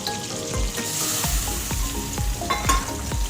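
Spice paste of turmeric, cumin and chili powder loosened with water sizzles loudly in hot oil, a steady close crackle broken by repeated scraping stirs, with no voices.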